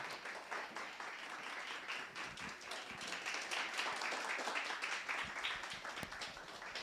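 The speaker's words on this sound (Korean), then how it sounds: "우리 다시 한번 축복의 박수 드리도록 하겠습니다" A congregation at a Manhattan church's Christmas Sunday service gives applause of blessing after a special music offering, a moderate, somewhat distant patter of many hands with individual claps audible, fairly even throughout.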